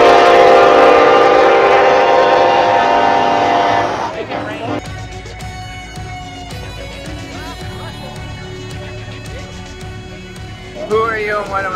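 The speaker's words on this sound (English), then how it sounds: "Watch out, the train's coming!" A train horn blares loudly and steadily for several seconds, then gives way to rumbling, clattering rail cars with voices nearby.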